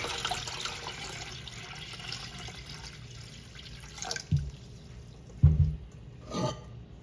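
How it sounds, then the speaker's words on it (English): Green beans are lifted out of ice water, giving soft trickles and drips with a few louder splashes and sloshes close by, faint and intermittent against a quiet kitchen background. "So now it's my time to remove the green beans from the ice water."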